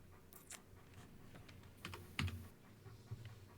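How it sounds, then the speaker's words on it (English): Keys clatter on a computer keyboard in a series of quiet, irregular clicks with a few louder taps, close but faint, with no talking. "I was just typing it in the chat."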